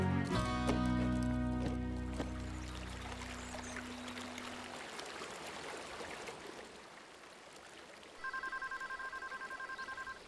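A cartoon telephone plays a series of speed-dial tones late in the clip: a steady, bright, evenly pulsed beeping. Before it, softer musical tones and a rushing, watery background sound fill the scene, and no one speaks.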